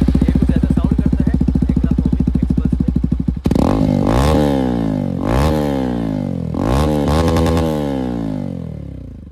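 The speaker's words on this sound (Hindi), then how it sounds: "अभी वैसे मेरा बाइक में डीबी किलर खुला हुआ है, जिसके वजह से साउंड थोड़ा ज़्यादा सुनाई देगा" A Hero XPulse 200 motorcycle with its dB killer removed idles with a rapid, loud thumping exhaust, then revs sharply three times in rising, falling bursts.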